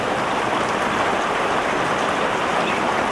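Steady broadband noise with energy spread evenly across every frequency and no gaps, a constant loud hiss like heavy rain that holds unchanged throughout, with no voices.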